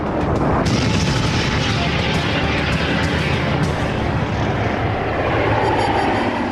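Lockheed F-117 Nighthawk stealth jets flying, a loud, dense roar of jet engines that swells and holds steady for several seconds, with a faint voice briefly beneath it.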